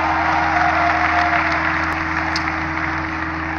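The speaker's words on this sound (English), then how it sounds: "So give yourself a round of applause for being here." Steady applause from a large audience at a OnePlus 6 launch event in India, broad and continuous over a low humming background.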